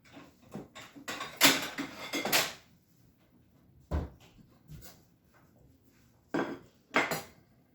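Cutlery clinks and scrapes against a plate while a knife cuts a piece of Victorian sponge cake, sharp clattering bursts separated by quiet pauses, close by.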